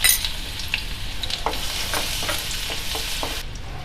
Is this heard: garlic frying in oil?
yes